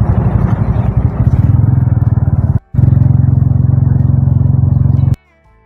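A motorcycle rides along a green village road in Purulia, its engine rumbling loud and close in a steady drone that cuts out briefly midway, then resumes before stopping abruptly.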